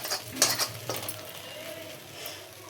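Egg fried rice is stirred in a pan over a low flame, with a few scraping clinks of a utensil early on over a soft, steady sizzle, quiet and close with no talking.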